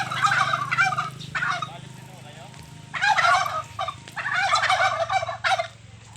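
Turkeys gobble in loud, repeated bursts at a farm, with quieter fowl calls and a low hum between the bursts.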